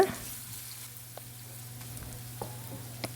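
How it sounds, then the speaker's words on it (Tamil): Onion and ginger-garlic paste sauté in a pan with a steady, faint sizzle and a few light taps of a spatula against the pan. "பேஸ்ட்டு சேர்த்த பிறகு நல்லா அதோட ராஸ்மெல் போகிற வரைக்கும் நம்ம நல்லா வதக்கி விட்டுக்கலாம்"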